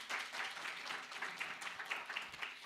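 An audience at an alumni event applauds in a steady, close wash of many hands clapping, holding an even level for a few seconds.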